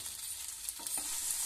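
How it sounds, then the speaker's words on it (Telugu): Potato pieces fry over low flame in a pan for potato fry while being stirred, giving a steady soft sizzle with a few brief scraping stirs near the middle. "ఈ విధంగా బాగా కలుపుకొని ఒక 10 నిమిషాల పాటు కుక్ చేసుకోవాలి."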